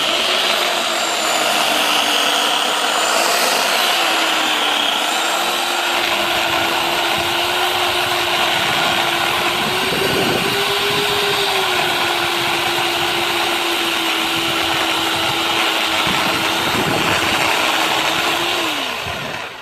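A power saw cuts steadily through a portable gambrel building, giving a loud, close, continuous whine that holds for nearly twenty seconds before cutting off.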